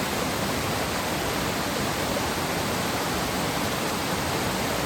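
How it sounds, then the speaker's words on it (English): Steady, loud rush of the first waterfall on Sweet Creek in Siuslaw National Forest, Oregon, a dense continuous roar close by with no voices. "that is the first waterfall technically here on Sweet Creek Trail"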